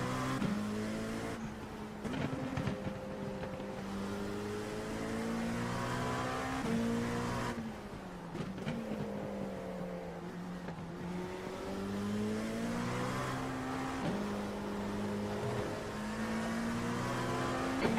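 Race car engines in a racing video game at the Nürburgring Grand-Prix circuit in an IMSA series event, a steady loud engine drone with rising and falling revs, gear shifts and brief tire noise throughout.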